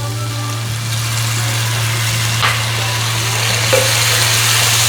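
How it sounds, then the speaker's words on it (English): Tofu sizzles in a pan with soy sauce, a loud, close, continuous frying hiss over a low steady hum, with a few brief clinks of stirring. "You see and smell and hear that sizzling?"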